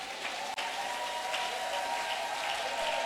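A church congregation claps in sustained applause, a steady hiss of many hands with a faint tonal hum beneath and a brief dip early on.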